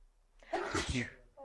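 A single loud, close sneeze bursts out during an indoor conversation, sharp and breathy, and a voice starts speaking right after it.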